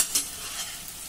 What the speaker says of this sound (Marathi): आता मध्यम गॅसवर हा कांदा थोडा मऊ होईपर्यंत आपल्याला परतून घ्यायचा आहे।